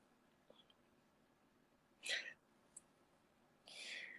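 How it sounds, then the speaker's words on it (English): Close, quiet hiccups during a casual live stream, two breathy bursts a couple of seconds apart with a tiny click between them, and faint background murmur. "The hiccups are back."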